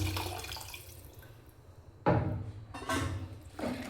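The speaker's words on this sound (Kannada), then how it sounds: "ಈಗ ಮಿಕ್ಕಿರೋ ನೀರನ್ನ ಸೇರಿಸ್ತಾ ಇದ್ದೀನಿ." Leftover water pours into a cooking pot of tomato bath, a steady splashing stream that breaks into a few louder gushes near the end.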